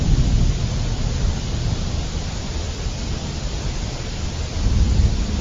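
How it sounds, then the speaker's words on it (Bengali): Cartoon sound effect of heavy rain beginning with thunder: a dense, loud wash of downpour with low rumbling swells at the start and again toward the end, no voices. "এই রে, জোরে বৃষ্টি শুরু হয়ে গেল যে"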